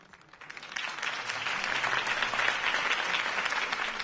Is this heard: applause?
yes